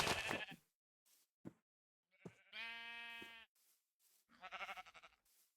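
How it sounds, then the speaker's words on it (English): Sheep bleating in Minecraft, several separate short bleats with silent gaps between them, clear and alone with no talking. "There is a ton of sheep here."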